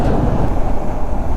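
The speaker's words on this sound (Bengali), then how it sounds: "আজকে ট্রেন চলে এলো।" A train arriving in East Sikkim gives a loud, close, continuous heavy rumble that roars steadily throughout with no speech over it.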